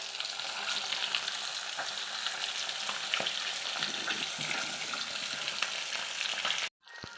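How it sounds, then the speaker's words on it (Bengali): Duck eggs frying in hot mustard oil in a wok, a loud, steady sizzle with occasional crackles, cutting off suddenly near the end. "তেল খুব ভালো করে গরম হয়ে গেলে আমি ডিমগুলি একে একে ভেজে নেব।"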